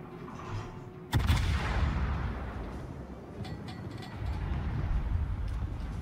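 A single heavy naval gun salvo fires at a Bayern battleship in World of Warships. A sharp booming blast is followed by a long rolling rumble that fades and swells, with faint distant cracks later on.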